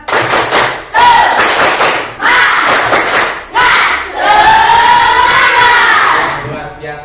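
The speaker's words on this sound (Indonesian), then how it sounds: "Oke, semuanya tepuk semangat." A group does tepuk semangat spirit clapping at an Indonesian school session, loud bursts of rhythmic claps in short sets broken by pauses, with voices chanting along and a drawn-out shout at the end.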